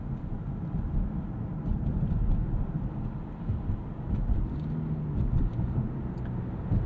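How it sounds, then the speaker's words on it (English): Interior of a 2025 Toyota Camry AWD merging onto a highway, with a steady low road and engine rumble and a wash of wind and tire noise inside the cabin. "let's get this merged onto the highway"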